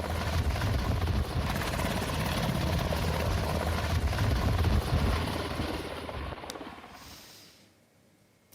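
A helicopter flies steadily with a loud, continuous rotor and engine roar, then the noise fades away over the last seconds as the aircraft departs, ending in near quiet.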